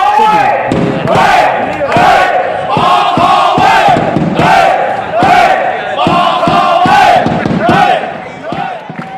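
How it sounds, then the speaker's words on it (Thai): Supporters of the Pathumkongka school football team chant and cheer together in loud rhythmic bursts, voices rising in unison with short pauses between shouts, close and energetic over several seconds. "ไม่น้อยที่เสียงเชียร์นี้ จะส่งผล โดยตรงต่อชัยชนะ"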